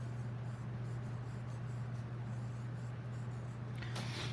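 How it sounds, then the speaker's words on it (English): A pencil scratches softly across paper while a name is written, faint and close, over a steady low electrical hum, with a slightly louder scribble near the end. "I would like you to write your name on the paper"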